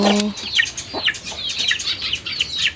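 Chickens at their new coop cluck and chirp in quick, close bursts, with a short low call at the start and no talking.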